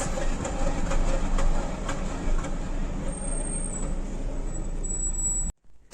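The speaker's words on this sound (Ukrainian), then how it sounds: "заднє колесо, щось відвалилось. Калатає, калатає." A car with a loose rear wheel driving along, giving a steady rumbling, rattling clatter with a continuous road drone, fairly loud and close, cut off abruptly near the end.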